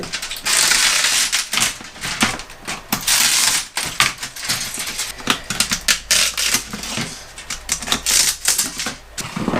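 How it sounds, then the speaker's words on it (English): A saw blade cuts through aluminium while a Banksia pod resin casting is being shaped, giving loud, dense, rapid rattling and grinding bursts that run almost continuously, close up and with no talk. "When it comes to the aluminium, I'm just basically going to dull my blade by just cutting through it."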